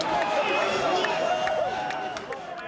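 A crowd celebrates in the Chicago Bulls' locker room after the Bulls beat the Lakers in Game 5 of the 1991 NBA Finals. The hubbub is dense and loud, with overlapping shouting voices throughout.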